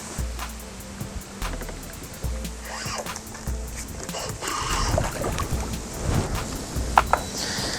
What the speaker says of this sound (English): I don't know if you can tell how windy it is out here